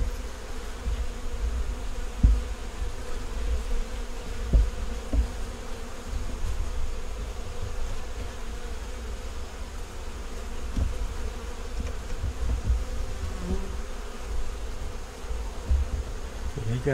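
Honey bees buzz around an open beehive, a continuous close hum of many insects with occasional louder passes and bumps near the listener.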